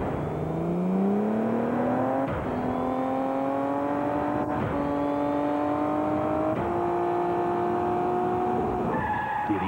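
Tyco Rebound radio-controlled toy car driving in a mid-1990s TV commercial: a loud, continuous electric motor whine climbing in pitch through repeated revs, with skidding screeches, and no voices.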